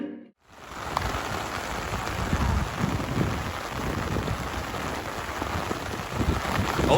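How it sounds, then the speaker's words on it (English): Steady rain pours down at an outdoor baseball game during a marathon 100-inning contest, a continuous dense hiss of drops close to the mic with no talk. "Those raindrops are falling on my head, they keep falling."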